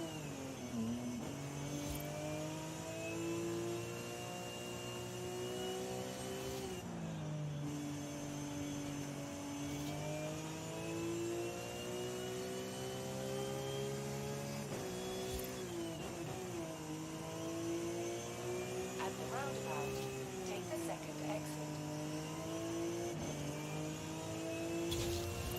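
A car engine in Forza Horizon 5 drones steadily for the whole stretch, with harmonics that rise and fall as the revs climb and ease off and short shifts around gear changes, loud and continuous with no talking.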